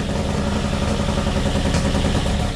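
A Porsche 914 fitted with a turbo engine runs rough, down on one or two cylinders, with a loud, close, continuous idle that clatters and chugs unevenly without a break.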